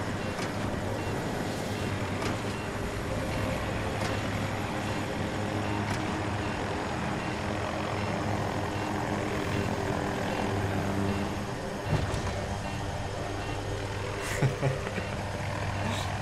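Helicopter rotor and engine noise from a multiplayer military video game drones steadily for the whole stretch at a moderate level, with occasional sharp game sounds cutting in.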